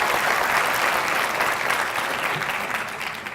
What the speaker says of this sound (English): please give a round of applause to the Somali Canadian Cultural Society